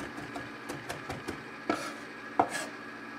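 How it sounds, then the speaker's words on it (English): A knife chops fresh dill on a cutting board in a kitchen, a run of light, irregular taps with two sharper, louder strikes near the end, close and alone without talk. "Give it a bit of a chop."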